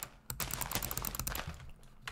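Rapid drag clicking on a computer mouse, a dense, fast burst of sharp clicks at close range, continuing with little pause and no talk over it.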